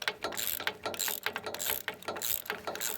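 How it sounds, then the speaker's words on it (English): Wrench ratcheting as nylock nuts are tightened onto bolts holding an LED work light to a tractor ROPS frame, a steady run of quick close clicks in short repeated bursts with no talking. "you have to use a wrench the entire way"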